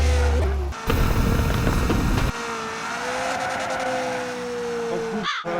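Car in a video game revs loudly and skids, tires squealing over steady engine drone for a few seconds, ending in a brief thump.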